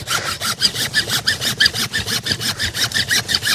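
A hand saw cuts through a plum tree branch for grafting, with quick, even back-and-forth strokes, loud and close, about four strokes per second.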